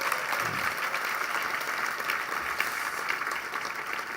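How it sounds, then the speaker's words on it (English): Steady, dense applause from a large audience at a keynote speech fills the whole stretch, loud and continuous without letting up. "Give the students a round of applause for what they did"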